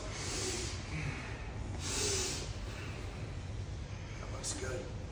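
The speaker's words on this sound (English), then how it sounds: "I should be hearing breathing through the nose." Breathing through the nose comes in a few strong, hissing breaths, close and fairly loud, during a low back exercise over a steady background rush.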